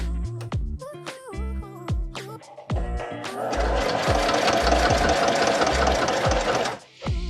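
A sewing machine stitches over a thick seam on a hooded toddler towel, starting in short stuttering bursts of rapid mechanical whirring and then running steadily and loudly before briefly pausing, with no voices.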